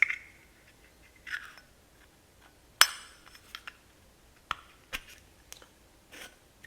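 A flip-top petrol lighter insert is pushed into its metal case, giving a few faint, scattered metallic clinks and scrapes against a quiet background.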